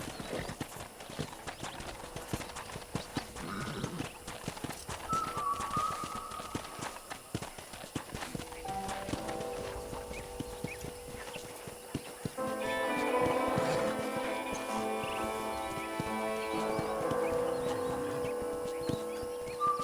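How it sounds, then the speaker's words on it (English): Horse hooves clip-clop in a steady, rhythmic gait while riding in the video game Red Dead Redemption 2, loud and close, with game music and ambience building beneath in the second half. "let's see if you can still ride a horse"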